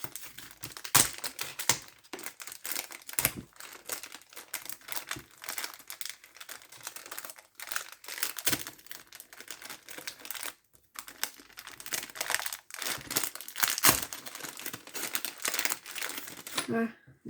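Plastic packaging around small baby pacifiers is being opened, giving close, busy crinkling and crackling with sharp snaps and rustles that continue for the whole stretch. Occasional speech is heard underneath.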